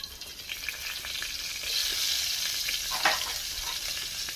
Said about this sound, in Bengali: তেলের মধ্যে একটু রসুন কুচি দিচ্ছি।